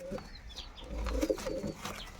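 Domestic pigeons kept in a home loft coo softly and repeatedly at moderate distance, low murmuring calls over a faint background with occasional light rustling.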